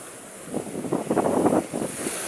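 Sea waves washing onto a shore in wind, a soft surge that swells and recedes over a steady breezy hiss, moderately near with no voices.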